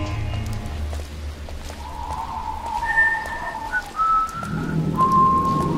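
A character whistles a few long, drawn-out notes over low rumbling game ambience, with steady background noise throughout, in Dishonored.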